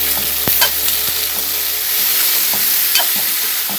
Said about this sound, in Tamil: இதை நல்லா வதக்கிடுவோம்.